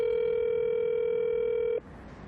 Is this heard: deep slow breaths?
no